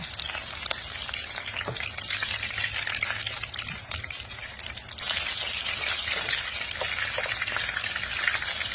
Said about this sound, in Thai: มาทำกุ้งทอดกันค่ะ